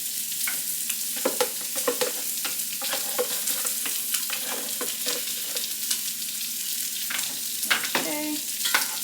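Garlic frying in a pan gives a steady crackling sizzle, close and continuous for the full stretch, with occasional scraping clicks from stirring and no talk.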